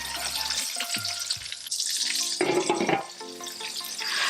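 Pork slices frying hard in hot oil in a wok, a steady loud crackling sizzle with bursts of popping throughout, close and continuous with no voices.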